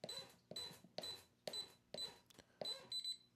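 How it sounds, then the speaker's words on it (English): A Winchester 26-gun safe keypad gives a run of about six sharp electronic beeps, each with a click, spaced roughly half a second apart, then a final brief tone. Close and clear, with no talking. "Double beep"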